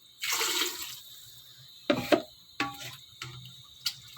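Water splashes into a pot of lentils for mash daal, with a pouring burst at first and then a few short sloshes and clinks close by, no one talking.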